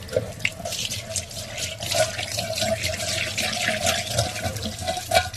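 Running water rinses sand being washed for cooking, a continuous splashing and trickling flow with small bursts of disturbance throughout.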